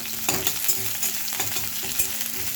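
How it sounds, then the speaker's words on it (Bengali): Onions and green chillies frying in hot oil, a steady crackling sizzle with occasional scrapes and taps of a stirring spoon. "পেঁয়াজটা একটু ভাজা ভাজা করে নিই"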